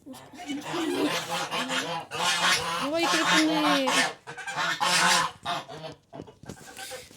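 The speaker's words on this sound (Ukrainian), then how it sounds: "Індокачки, мускульні качки або шипуни." Muscovy ducks (indokachky) calling on a farm, with breathy honking and hissing calls repeated throughout, loud and close, mixed with a person talking.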